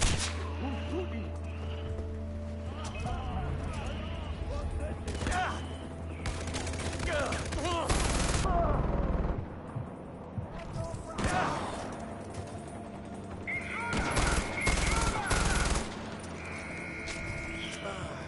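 Sniper gunfire in Far Cry 4 cracks out in sharp, loud shots, with bursts of other gunfire and bleating sheep mixed into a busy outdoor game scene, and voices talking.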